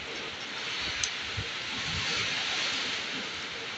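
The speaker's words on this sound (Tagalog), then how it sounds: "Lakas ng hangin at saka ulan." A steady, soft hiss of rain with wind blowing, continuous and fairly distant, with a couple of faint knocks.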